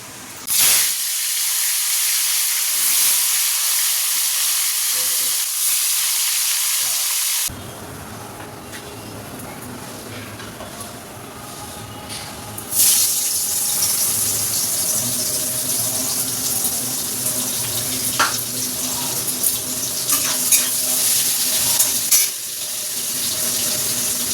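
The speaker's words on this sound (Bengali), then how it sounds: "বড় বড় পিস করে কাতলা মাছ এনেছে, এটা এখন ওদের ভেজে দিয়ে দিই" Large pieces of katla fish fry in hot oil with a dense, steady hiss and sizzle, the intensity shifting in sections, with occasional clinks and spatters close by and no talking.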